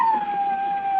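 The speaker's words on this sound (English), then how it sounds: "The neighbor's dog's at it again, Mrs. Edney." A single sustained, slightly wavering dog howl, fairly loud and clear, with no other voices.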